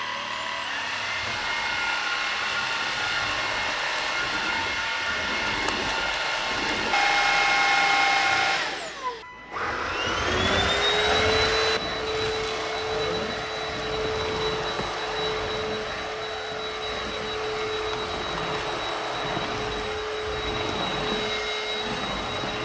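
A Bissell Cleanview XR vacuum cleaner runs with a loud, steady whine and airy roar, its motor pitch shifting partway through as it works, close by and with no voices.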